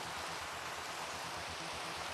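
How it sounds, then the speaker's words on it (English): Steady rain falls in the Minecraft world as a soft, even hiss, quiet and unbroken across the whole short stretch, with no voices over it. "Oh, it's raining!"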